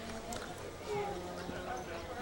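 Calm parade horses clip-clop along at a rodeo parade, with a faint and steady hoof rhythm partly buried under crowd noise and nearby talk.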